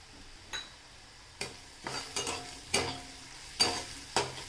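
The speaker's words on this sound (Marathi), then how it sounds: "हळदीवर पण आपण एक ते दोन मिनटं कांदा चांगला परतवून घ्यायचा" Onions and green chillies are sautéed with turmeric in a pan under a soft, low sizzle. A spatula stirs and scrapes in about eight distinct strokes, close and clear, with no talking.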